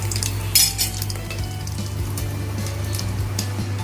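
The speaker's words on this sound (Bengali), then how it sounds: "তেজপাতা দেব, দুটো ছোট এলাচ, দুটো লবঙ্গ, একটা দারচিনি টুকরো, একটা শুকনো লঙ্কাকে ফাটিয়ে দিলাম।" Bay leaf, cardamom, cloves, a cinnamon piece and a dry red chilli crackle and sizzle in hot oil, a steady frying hiss with scattered sharp pops and a clink of a utensil early on.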